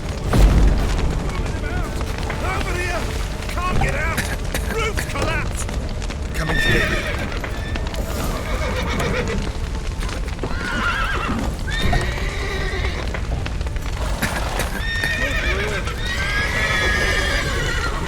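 Horses neighing and whinnying in a burning stable in The Witcher 3, repeated shrill whinnies with hoof clip-clops amid crackling fire and rumbling collapse, with voices shouting over the din.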